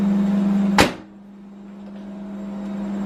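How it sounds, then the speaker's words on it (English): An oven door shuts with a single loud thud, with a constant steady oven fan hum continuing before and after it, while chocolate fondants are baked in a kitchen. "Ben, can you shut the door, please?"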